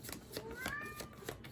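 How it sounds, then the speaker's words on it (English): A pet cat gives a couple of short, soft meows in a quiet room, faint and close, with a light shuffling or rustling sound around them. "My cat says hello"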